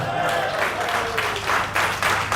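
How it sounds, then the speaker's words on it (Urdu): Audience applause at an association election gathering as a candidate is introduced, a steady wash of clapping throughout with a voice partly audible beneath it. "آپ کی زوردار تالیوں میں"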